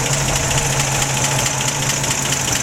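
A 1953 Ford two-door car engine idles steadily up close, a continuous rumbling drone with a low, even hum and no voices.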